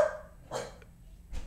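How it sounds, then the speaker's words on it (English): A dog barks twice, a couple of short, sharp barks about a second apart, in an otherwise quiet indoor setting with a faint breath between them. "And the dog started barking."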